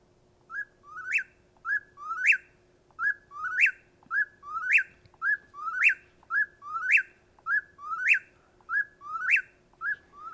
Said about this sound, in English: we have an eastern whippoorwill, I think, that Jeff's got.